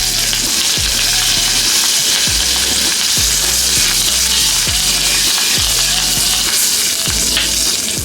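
Mustard seeds, curry leaves and chilies crackle and sizzle steadily in hot oil for a sweet pumpkin sambar tempering, with a utensil stirring and scraping the pan in regular strokes, loud and close, no talking.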